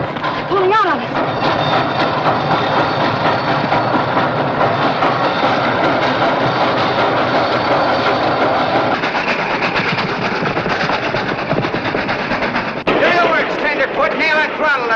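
Train locomotive engine running steadily with rumble and rattling from an old film scene, continuous and loud, with voices talking over it and a shift in the sound near the end.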